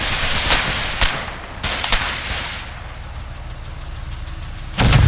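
Tank cannon blasts and gunfire in a light tank combat video game: several sharp loud reports around the first two seconds over a steady engine rumble, then a heavy boom near the end.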